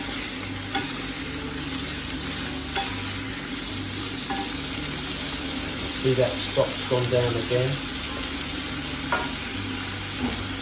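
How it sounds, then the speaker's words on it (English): A steady sizzle of diced chicken breast and chorizo frying in a pan for risotto, with occasional stirring clatter, under someone speaking briefly. "We'll fry off our diced chicken breast in with the chorizo in a second."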